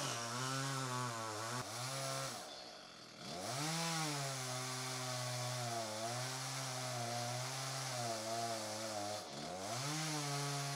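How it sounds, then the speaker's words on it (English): Chainsaw cutting into a log for drum making, its engine droning steadily and shifting pitch as it bites and revs, with a short dip partway through, close and continuous. "you have to position the chainsaw on a slant"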